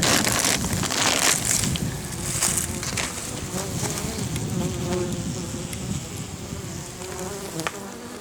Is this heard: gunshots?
no